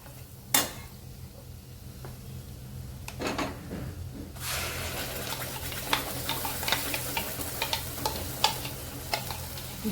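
Ground masala paste for a spicy prawn masala hits hot oil with red chilli and garam masala and sizzles into a steady, loud fry, punctuated by frequent spoon-stirring scrapes and clinks after a few quieter knocks at the start.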